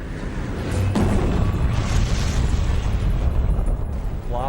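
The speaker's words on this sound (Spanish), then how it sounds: "La lava sale a la superficie y entra en erupción con una explosión." A volcanic eruption with an explosion, a sharp burst followed by a sustained loud, rumbling roar that fills the whole clip with dense broadband noise and no speech.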